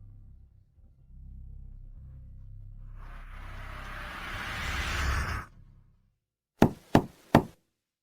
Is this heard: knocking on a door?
yes